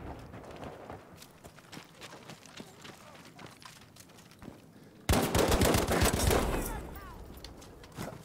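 A Battlefield V gunfight: rapid bursts of automatic gunfire crackle amid distant battle noise, then a sudden loud close-range volley erupts and trails off, with someone talking over it.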